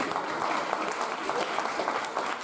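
Steady applause from the audience at a Miss Beauté Franche-Comté pageant as a candidate joins the stage, a continuous dense wash of clapping.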